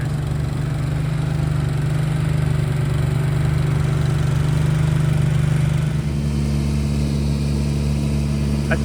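A greens mower engine runs on a golf club green, a loud, steady mid-pitched motor drone with a low throb that shifts its tone about two-thirds through, close by and without speech.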